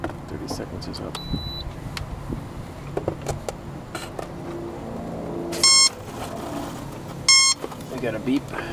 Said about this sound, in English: We got a beep, go to center.